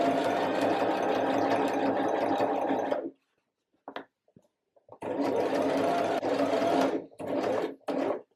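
A sewing machine stitches a reversible bodice in fabric, running in a steady loud burst for about three seconds, then falling silent with a few faint handling clicks, before resuming in several shorter bursts near the end.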